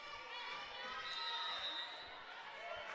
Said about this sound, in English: Starting to hear the crowd get into it now.